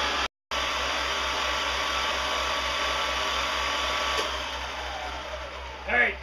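A new benchtop milling machine running at its highest speed of 2000 RPM gives a steady, loud motor whine and hum that holds constant for several seconds, with a brief dropout near the start and a small bump at the end.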